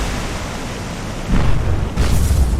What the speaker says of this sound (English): There's a big secondary explosion that time.